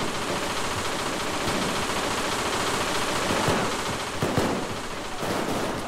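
Gunfire in the Payday 2 video game, a dense, continuous barrage of shots with no gaps, loud and close throughout.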